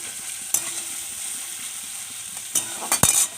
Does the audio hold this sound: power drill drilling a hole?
no